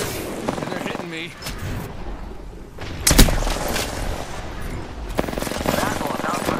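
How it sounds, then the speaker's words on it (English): Gunfire in Apex Legends Season 17 rattles in short bursts, with a sharp loud crack near the middle and more shots toward the end, while a player talks over much of it. "Shot fired. And they're hitting me."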